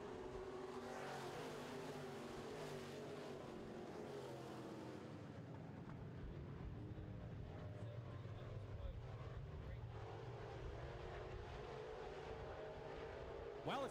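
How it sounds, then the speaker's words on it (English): Midwest Modified race cars roar and drone continuously around a track during heat races, loud and sustained, with a commentator talking over the noise. "racing now with the 3 of Somach"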